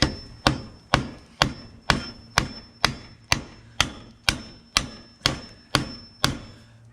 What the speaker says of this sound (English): Let's get the hammer on that.